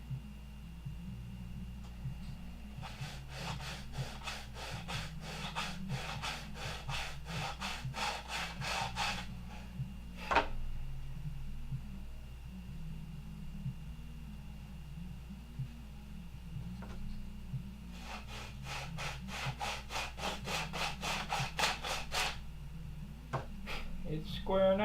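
A wooden horn clip is sanded square by hand, heard as two bursts of fast, rhythmic rasping strokes, close and moderately loud, separated by a pause, over a low background hum.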